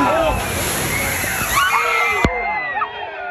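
Water sloshes and splashes heavily over riders on an amusement park water ride at Canobie Lake, a loud close rush of spray that fades, with excited voices over it.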